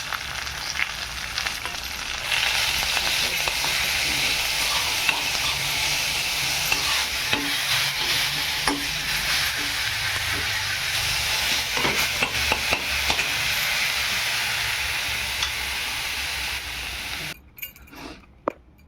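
Ground masala paste for vada pav sizzles steadily as it is sautéed in a pan, with occasional stirring clinks. The frying hiss stays moderate and even for most of the stretch, then cuts off near the end.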